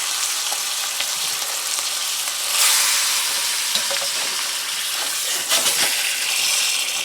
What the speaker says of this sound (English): Now you're just searing this to keep in the flavor, folks.